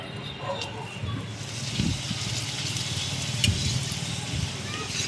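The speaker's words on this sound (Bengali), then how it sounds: "কড়াইয়ে তেল দিয়ে দিয়েছি পাঁপড় ভাজার জন্য। এই যে এই পাঁপড়গুলোকে আমি ভেজে নেব।" Papad frying in hot oil in a kadai, a continuous close crackling sizzle with a few sharper pops and stirring touches, while someone speaks quietly over it.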